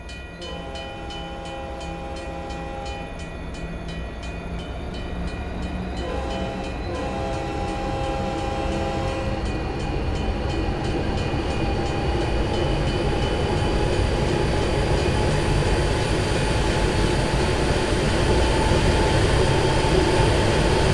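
GP60M H2 diesel locomotive on the Cajon Pass in Train Sim World 6, with two long horn blasts over a steady, gradually building engine rumble and rolling rail noise, no talk.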